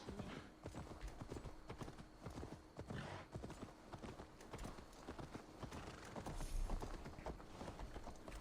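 A horse gallops in the video game Assassin's Creed Valhalla, with quick, steady hoofbeats rolling continuously at close range along with faint creaks and game ambience.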